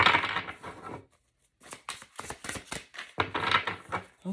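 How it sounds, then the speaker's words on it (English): Oracle cards being shuffled by hand, brisk papery riffling and flicking in two bursts separated by a short pause, close and moderately loud, with no talking. "I did pre-shuffle, but I like to do a little bit on camera."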